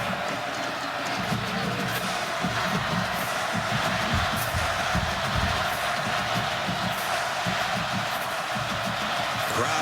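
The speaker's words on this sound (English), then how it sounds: "Crowd back into it for the Oklahoma defense" A large stadium crowd at a TCU versus Oklahoma college football game roars steadily for the Oklahoma defense, a dense continuous wall of cheering and noise that holds at a constant loud level with no clear individual voices.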